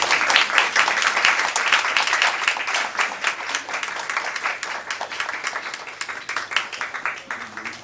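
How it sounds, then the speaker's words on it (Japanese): A church congregation applauds to welcome a visiting preacher at a special service, a dense, steady burst of many hands clapping close by that continues throughout and eases slightly toward the end. "では拍手で先生をお迎えしていきたいと思います。"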